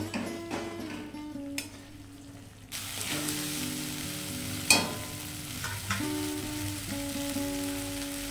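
Potatoes sautéed in a pan for a paneer curry give a crackling sizzle with scraping stirs, a sharp clatter of a utensil partway through, and a steady hiss throughout.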